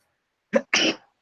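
A person sneezes once close to the microphone, a short sharp burst followed by a longer breathy blast, lasting under a second in an otherwise quiet indoor setting.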